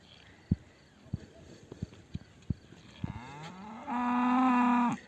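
A loose cow running free beside a river, hooves thudding in a quick uneven series before it lets out a long, loud moo near the end, with faint voices in the background.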